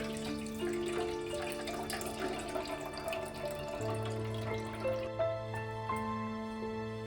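Fresh chhena being strained by hand, with whey and water trickling and splashing steadily into a sink basin, close and fairly soft, with no voices.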